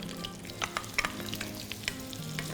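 Onion, garlic and carrot sauté in a pot, a steady close sizzle with soft stirring clicks and scrapes throughout, no voices.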